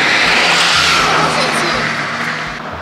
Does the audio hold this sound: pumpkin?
no